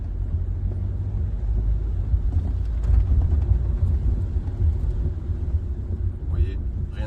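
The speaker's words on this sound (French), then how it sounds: "On accélère un peu, on écoute le moteur" A Renault Captur Intens 1.5 dCi 110 hp diesel accelerates gently while driving through town, a low steady engine rumble with road noise heard from inside the cabin, swelling slightly mid-way, with someone talking over it.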